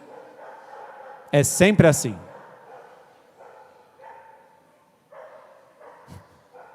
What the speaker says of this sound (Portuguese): agora a cachorrada vai fazer barulho